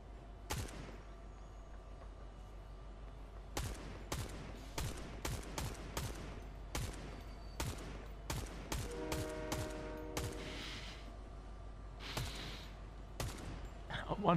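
Repeated gunshots from Fortnite gameplay, played on a train: scattered single and clustered shots in irregular bursts throughout, fairly loud and close over a steady background hum, with a rapid rattling burst near the middle.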